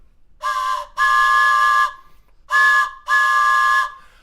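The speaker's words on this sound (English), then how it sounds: "we're going to kick it off here with the old train whistle." An old-style train whistle is blown live at the start of a country song, two pairs of loud, steady tonal blasts separated by short gaps, heard close and clear with no talk.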